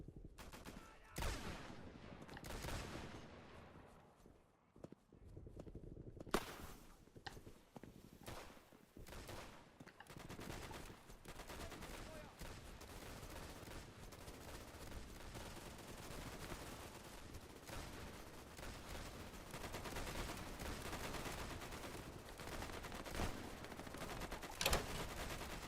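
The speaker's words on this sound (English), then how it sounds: "What are y'all shooting at?" Gunfire in the World War II video game Easy Red 2 comes as repeated rifle shots and bursts, some near and sharp, others more distant, forming a dense ongoing firefight.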